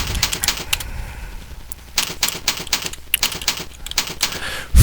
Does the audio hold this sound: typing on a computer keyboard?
yes